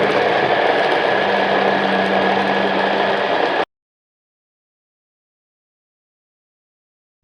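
An electric vegetable chopper machine runs after being pressed, a loud steady motor whir with a low hum for about three and a half seconds, then stops abruptly into silence.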